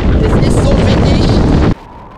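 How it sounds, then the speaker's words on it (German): Loud, roaring wind in Patagonia buffets the microphone for nearly two seconds, then suddenly drops to a quieter rush. "Das ist so windig."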